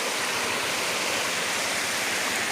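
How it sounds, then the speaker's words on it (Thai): A small waterfall flows steadily in a steep rocky forest setting, producing a loud, dense rushing and splashing roar close to the microphone, constant and unbroken with no voices. "เราจะเก็บน้ำตกเล็ก ๆก่อน"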